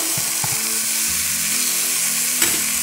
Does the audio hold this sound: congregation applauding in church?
no